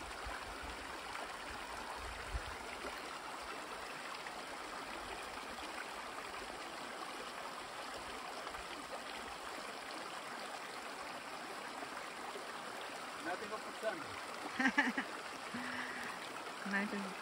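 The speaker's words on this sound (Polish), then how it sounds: "podszedł do tego strumienia, żeby nabrać wodę." A Bieszczady mountain stream flows steadily while water is collected from it, a continuous broadband rush and trickle that stays fairly close and even, with a few brief splashes near the end.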